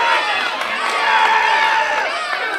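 A crowd at a grappling fight event cheers and shouts loudly and continuously, a dense wash of excited voices rising and falling throughout.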